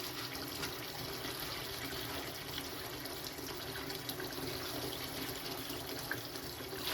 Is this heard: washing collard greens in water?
yes